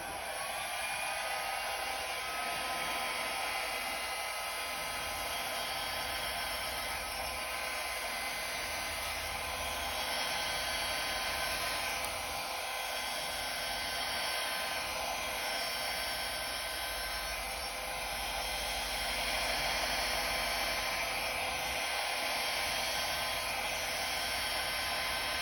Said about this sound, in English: I'm gonna grab my blow dryer, and on the low cool setting